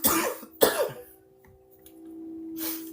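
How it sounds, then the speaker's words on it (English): A person coughs in three harsh bursts, two close together at the start and one more after a pause, with a steady hum underneath. "I'm gonna cough. Cough, cough."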